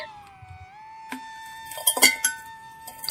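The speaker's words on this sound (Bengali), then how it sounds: "এবার খুন্তি দিয়ে কিন্তু আমি চৌকো করে" A metal spatula cuts mango kalakand into squares in a pan, making a few sharp metallic scrapes and clinks close by over a steady tonal hum.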